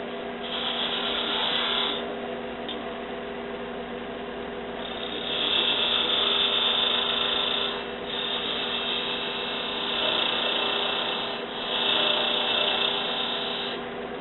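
A wood lathe turns a lantern ornament while a tool cuts into the spinning wood, a steady mechanical hum with hissing scraping passes that swell and fade several times, close and without talk.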